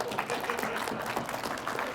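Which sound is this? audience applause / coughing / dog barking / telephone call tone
audience applause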